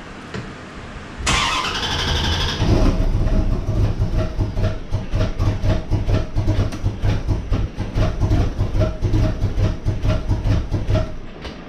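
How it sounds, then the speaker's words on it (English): 1994 Chevrolet C4 Corvette cranking and failing to start: a loud rhythmic starter churn with fast repeated chugging pulses runs continuously for about ten seconds after a brief click at the start. "We're gonna try to fire up my Corvette, see what happens."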